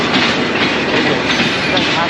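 A train standing at Abdullapur junction station on a Dhaka to Rajshahi run, giving a loud, steady rumble with rail clatter that fills the whole stretch, close by.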